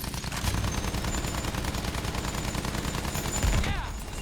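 Gunfire in the video game Battlefield 1: dense, continuous automatic shooting with rapid overlapping bursts, loud and close, holding steady throughout with no voices.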